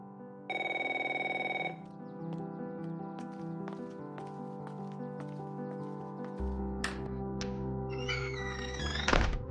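An indoor telephone rings once with a bright, steady electronic tone lasting about a second. Muffled household thumps and clatter follow.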